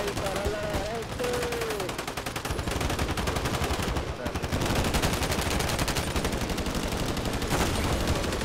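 Rapid, continuous automatic gunfire from Call of Duty rattles loudly for several seconds in dense repeating bursts, with a voice briefly heard at the start.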